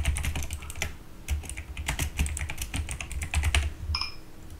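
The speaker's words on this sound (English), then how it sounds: "I'm going to type so he'll show." Rapid, close clatter of typing on a computer keyboard, with keystrokes in quick irregular bursts and short pauses, loud and alone with no speech.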